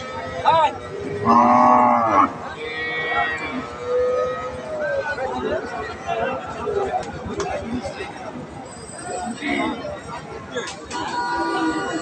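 Cows and calves moo repeatedly at a busy village cattle market, several loud, drawn-out calls up close amid steady crowd chatter and people talking nearby.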